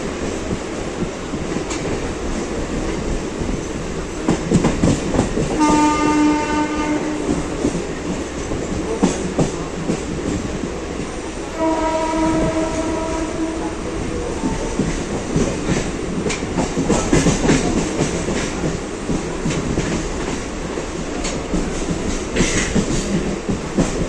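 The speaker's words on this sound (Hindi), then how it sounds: "अब हम अराइव कर रहे हैं मुंबई सेंट्रल स्टेशन पे" Superfast Express train pulling into Mumbai Central station, steady rail rumble and clickety-clack of wheels over joints, with two long horn-like tonal blasts sounding mid-way, close and prominent with no talk.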